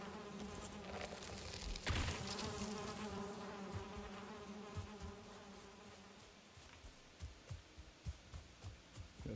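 A close, steady drone of bees buzzing in the video game Valheim carries on without a break, with faint soft thuds in the background.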